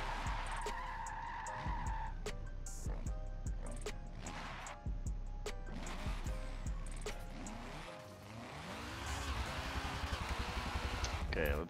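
A Nissan SR20-powered S13 coupe spins out in Forza Motorsport 7, with its engine droning and tires squealing and skidding, and a voice talking over the top before the engine note shifts and climbs again.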